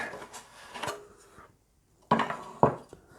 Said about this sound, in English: so the glue's good and dry, so we can see if we can get this out of the mould